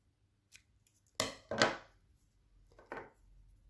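Scissors snip through a length of sewing thread, giving a few sharp, close cuts with short pauses between them in a quiet room.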